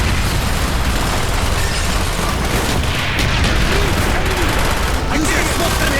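Loud mortar fire and explosions during a Call of Duty: Black Ops battle mission, a dense, constant roar of blasts and gunfire with shouted voices mixed in.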